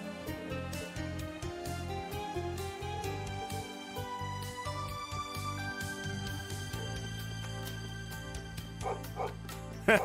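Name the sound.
dog barking in video game Trails of Cold Steel 3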